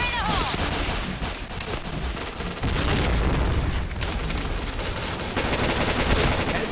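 Rapid automatic gunfire from the Point Blank online shooter, dense overlapping bursts sustained throughout with loud booming impacts, a continuous busy game mix with no clear pauses.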